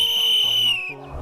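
A whistle gives a bright sustained high tone with overtones, then cuts off abruptly, leaving lower tonal sounds and faint background.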